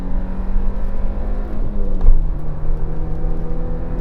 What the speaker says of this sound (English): Gosh, it doesn't like revving, this engine.